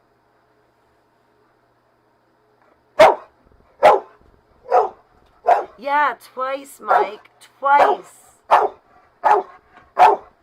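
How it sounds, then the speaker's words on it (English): A dog barks repeatedly indoors, about a dozen sharp close barks and yips at a steady insistent rhythm after a silent start, with a person speaking briefly between them. "She's going to bark my ear off."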